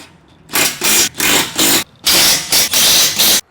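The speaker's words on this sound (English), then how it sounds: "We're going to tighten these down with a 7/32 hex key and a 9/16 wrench or socket for the nut." A 9/16 wrench or socket, likely a powered driver, tightens nuts on a Roambuilt driver-side tire carrier for a Mercedes Sprinter van, heard as close, loud bursts of whirring in a rapid stop-start rhythm.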